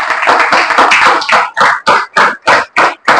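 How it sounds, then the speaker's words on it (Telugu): A church congregation clapping loudly during a pastor's sermon, first as dense overlapping applause, then settling into strong rhythmic unison claps, close and forceful. "అర్థమైతే గట్టిగా చప్పట్లు కొట్టండి."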